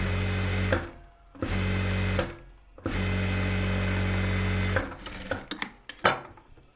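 A sewing machine runs in loud, steady bursts while joining an extra piece to a blouse back neck, three long runs separated by brief pauses, then a few short clicks and taps near the end.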